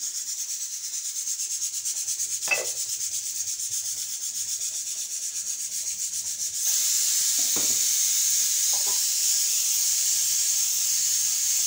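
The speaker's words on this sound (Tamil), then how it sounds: "கவுண்டர் டாப்பையும் க்ளீன் பண்ணிடுறோம்." A kitchen countertop is scrubbed clean: a steady close hiss runs throughout, broken by a few brief rubbing strokes, and the background grows slightly louder partway through.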